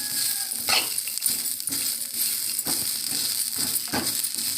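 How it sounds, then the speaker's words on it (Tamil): Grated coconut roasts in a dry pan toward golden brown, soft sizzling broken by scraping and clinking stirs at irregular intervals, close up with no voices. "அதே பாத்திரத்தில் இந்த தேங்காவும் நல்லா கோல்டன் ப்ரௌனாக வறுத்து எடுத்துக்கலாம்."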